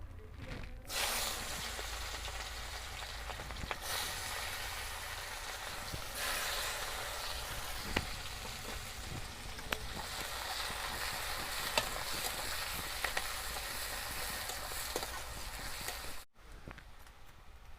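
Chopped onion sizzles in hot oil with whole cumin for a meat dish, a steady close hiss with occasional stirring scrapes and clinks, running unbroken until it cuts off near the end.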